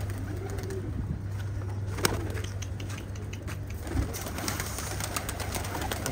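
Outdoor pigeons cooing at a pigeon-catching spot, soft low coos repeating over a steady hum and background noise, with a couple of sharper knocks.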